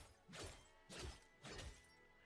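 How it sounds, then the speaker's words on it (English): Three crisp glassy shattering crashes from a candy-themed pickaxe striking in Fortnite, spaced about half a second apart, each a sharp bright burst that rings briefly before fading. "it has the glass break sound effect, which makes sense"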